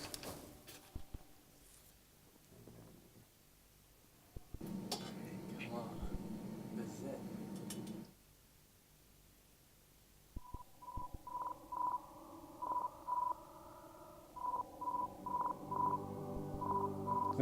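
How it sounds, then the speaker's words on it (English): Faint, crackly amateur radio signals received by the Juno spacecraft come through hiss and static, then turn into a steady pattern of repeated beeping tones that rises out of the noise. "the Juno spacecraft will be able to listen and hear all these amateur radio transmissions"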